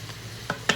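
Ground turkey browning in an Instant Pot, a faint low sizzle broken by two quick scraping stirs of a utensil against the pot in under a second.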